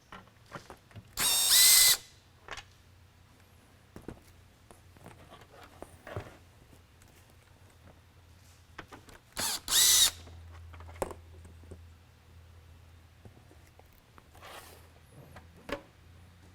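A power drill spins out two screws from the outer dome of a Code 3 420 Beacon Mini Lightbar, two short loud whirring bursts separated by quiet handling clicks and light taps.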